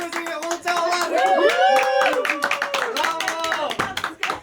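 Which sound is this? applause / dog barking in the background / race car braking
applause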